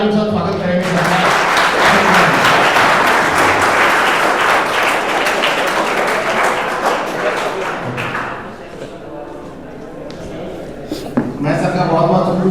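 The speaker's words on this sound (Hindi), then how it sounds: "तो एक बार जोरदार ताली के साथ स्वागत करेंगे सर।" A lecture audience of students claps to welcome a guest speaker on nuclear power, dense loud applause from the start that thins toward the end, with talking and a few thumps near the close.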